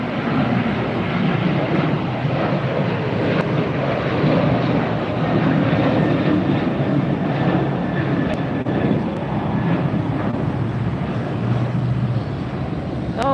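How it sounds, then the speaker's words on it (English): An Asiana Airlines Airbus A380 taxis at LAX after landing on the north side, its jet engines giving a loud, steady broadband roar with a low rumble that holds throughout, with no voices. "A380 Asiana that just landed on the north side"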